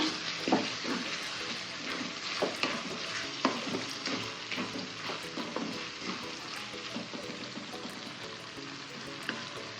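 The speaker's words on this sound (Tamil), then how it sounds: "சிக்கன் சேர்த்து மிக்ஸ் பண்ணி விட்ருங்க" Half a kilo of chicken stirred and mixed in a sizzling pan for mohinga, with repeated scraping strokes of a spoon over a steady frying hiss, close up and free of speech.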